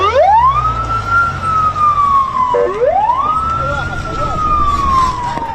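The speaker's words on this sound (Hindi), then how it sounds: "सड़कों पर एम्बुलेंस की गाड़ियां दौड़ रही हैं" An ambulance siren wails loudly and close in a war-damaged Gaza street, two long rising-and-falling sweeps over heavy traffic rumble.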